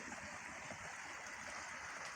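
Water runs steadily into a paddy field being readied for IRRI rice, a continuous soft rushing and trickling wash heard alone at low level throughout.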